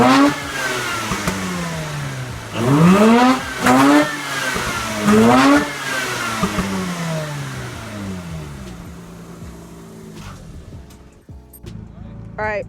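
A Mazda RX8 rotary engine revving repeatedly, each rev rising sharply and falling back to idle, loud and close, with a voice talking over the idle between revs.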